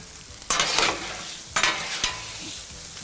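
A stir-fry being stirred on a Blackstone griddle: constant low sizzling with two sharp bursts of spatula scraping and tossing, close up, with no talking.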